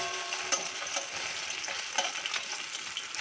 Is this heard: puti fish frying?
yes